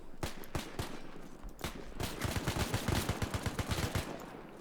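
Rapid automatic gunfire from the player's own weapon in the military shooter game Arma 3, a WW2 campaign: dense, loud bursts of close shots, at first separate cracks, then a fast steady rattle of repeated rounds, with no talking over it.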